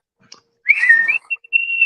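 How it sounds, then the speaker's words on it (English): A short, breathy human whistle rising into a sustained tone, broken by a brief gap, then a steady held note; alone and close. "Sorry, I suck at whistling."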